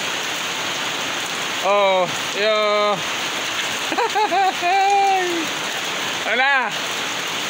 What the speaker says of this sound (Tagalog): ulan na.